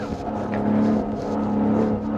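A BMW X3 M40i with all-wheel drive and a limited-slip differential pulls under throttle through a corner, a steady, fairly loud engine drone with a low hum that swells slightly mid-pass.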